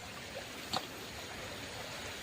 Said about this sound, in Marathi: आता इकडनं थोडं पाणी जाते आणि त्या साईडने पाणी जाते